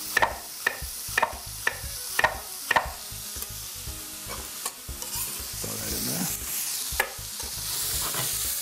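Onions and sausage stirred in a hot pan, a series of sharp scraping stirs in quick rhythm over a quiet sizzle, then softer shuffling and continued frying, close and fairly faint.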